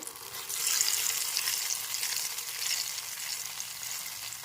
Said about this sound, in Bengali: এখন দিয়ে দিচ্ছি পেস্টটা এবার একটু ভালো করে নেড়ে ছেড়ে নিতে হবে